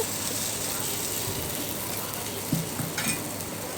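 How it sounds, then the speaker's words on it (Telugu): Ragi dosa batter frying in a couple of spoons of oil in a small kadai, giving a steady close hiss and sizzle with a few faint knocks of a utensil, with no talking. "చిన్నగా ఉన్న కళాయి తీసుకొని రెండు స్పూన్ల ఆయిల్ వేసుకొని రెండు గరిటెలు పిండి వేసుకొని"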